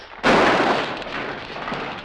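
A gunshot in a western film scene cracks loudly and abruptly, then trails off into a long, rumbling echo with a smaller crack near the end. No one speaks.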